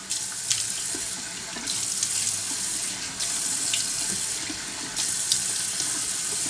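Water runs steadily from a bathroom tap into a sink while a face is rinsed during an at-home chemical peel, a continuous close splashing hiss with small surges and breaks, no voices.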